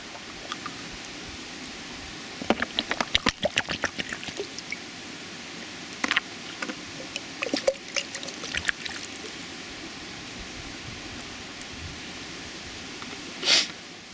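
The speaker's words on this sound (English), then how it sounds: "I'll just do a snuffer dump and I'll show you what I got" Water and sediment from a snuffer bottle drip and splash into a gold pan in scattered wet spurts, with quiet gaps between and one louder splash near the end.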